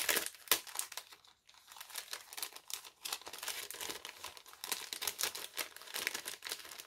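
Plastic packaging holding small paper die cuts is opened, with crisp crinkling and rustling in close, irregular bursts, a brief pause, then steady handling noise.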